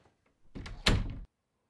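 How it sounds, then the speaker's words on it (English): A door being shut in an old Western drama, a short sliding scrape ending in a solid thunk, heard close against near silence with no voices. "Shut the door, Chester."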